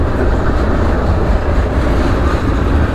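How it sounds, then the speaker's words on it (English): A train rumbles steadily past a backcountry railroad crossing in Alabama, a loud continuous low roar of rolling wagons with no talking. "sometimes you get held up by a train"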